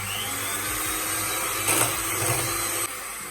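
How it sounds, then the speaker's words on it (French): An electric hand mixer whirs continuously at high speed while mixing egg and crème fraîche in a bowl for a croque monsieur, a steady close buzzing with slight changes in pitch and no talk. "batteur électrique comme ceci, et vous allez venir mélanger l'œuf et la crème fraîche."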